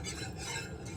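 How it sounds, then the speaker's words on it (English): A wire whisk stirring Alfredo sauce in a non-stick pan, a steady close scraping and swishing with a low simmering bubble underneath, uninterrupted for a moment. "I am using a wire whisk in my pan"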